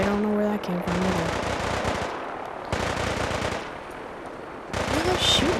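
Bursts of rapid automatic gunfire from a Fallout 4 battle rattle loudly in several long volleys, separated by short pauses, with someone speaking briefly between them.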